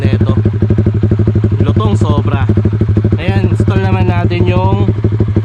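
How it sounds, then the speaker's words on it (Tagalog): Supra GTR 150 motorcycle fitted with a VMAX GP-type full exhaust and silencer, its engine loud and close with a steady rapid pulsing throb, rising in pitch through several revs from about 1.8 to 5 seconds. "VMAX full exhaust GP type with silencer."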